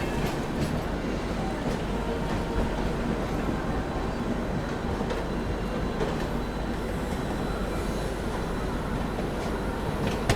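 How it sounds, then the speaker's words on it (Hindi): Amrit Bharat Express train running from LTD toward Saharsa passes close by with a steady, loud broadband rumble and faint clickety-clack of wheels over rail joints, continuous throughout. "अमृत भारत एक्सप्रेस"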